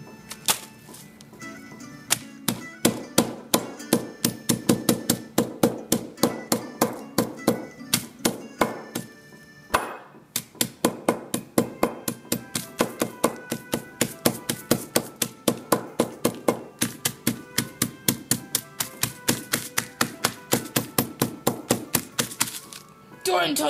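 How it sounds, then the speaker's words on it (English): The flat side of a hammer bangs a food bag in rapid, steady, repeated thuds that go on for over twenty seconds with one brief pause, loud and close. "Get the hammer thing. Get the, not the sharp part of it, but the flat side, and bang it."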